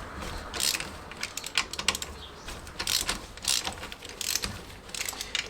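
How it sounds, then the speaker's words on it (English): A ratchet clicks rapidly and closely in repeated bursts as it slackens 19 mm nuts on the rear drum brake hub of a classic Fiat 500, with no talking. "So we're going to take our ratchet, these are 19s, and we're going to first of all just slacken these off."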